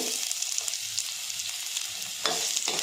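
Sliced large onions crackle and sizzle in a few spoonfuls of hot oil for a capsicum dish, a steady close hiss with a brief louder burst of spattering near the end.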